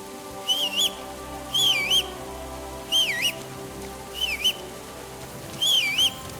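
Five separate bursts of warbling melodic whistling by a character in the video game Kingdom Come Deliverance 2, each short and wavering, repeating at a steady pace over a constant low background hum.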